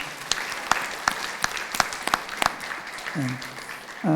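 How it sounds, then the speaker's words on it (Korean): A church congregation at a Sunday service claps in a short round of applause, scattered distinct hand claps building briefly before a voice speaks at the end. "우리 수고하셨다고 특히 음식 만나고 박수 한번 하겠습니다."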